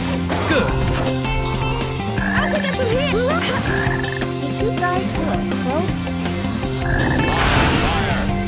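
Croaking frog sound effects in Sonic Heroes gameplay, recurring loudly throughout over layered game music and sound effects, with no pause in the dense mix.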